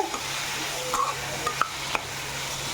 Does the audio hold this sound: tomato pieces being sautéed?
yes